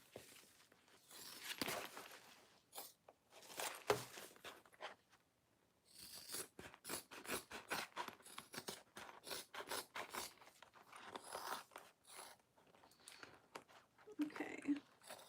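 Scissors trimming, quiet close snips and rustling cuts in irregular bursts with brief pauses, faint overall.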